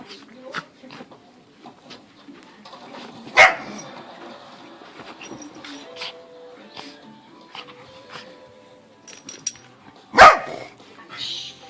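A puppy lets out two sharp, loud barks several seconds apart, with quieter rustling and a soft voice in the gaps between them.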